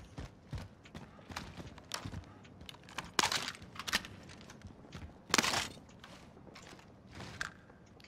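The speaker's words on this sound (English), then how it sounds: "Okay, I've got more footsteps." Footsteps in the video game Warzone, a run of irregular light steps and scuffs spread through the clip, with a few sharper louder impacts, fairly close and without speech.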